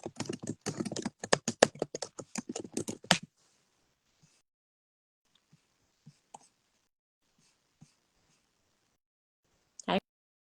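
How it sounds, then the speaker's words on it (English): Rapid keystrokes clatter on a computer keyboard as a message is typed, a dense run of clicks for about three seconds, then scattered faint taps and a final louder click. "let me type him a message."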